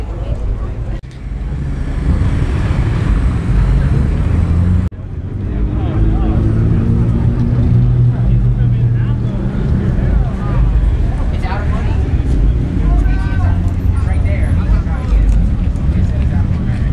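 Drag cars making test and tune runs at the TX2K15 drag racing event, including turbocharged GTRs and Supras, give a loud, continuous engine roar throughout, with a brief drop near the start and talk over the noise.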